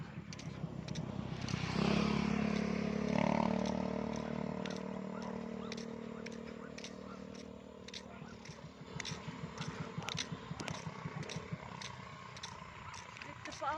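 Motorcycle engine swelling as it passes by outdoors, a strong droning hum that peaks early and then fades, followed by scattered clicks and rustling, with people talking nearby.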